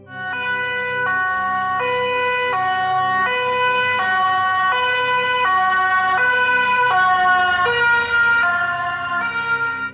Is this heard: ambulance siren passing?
yes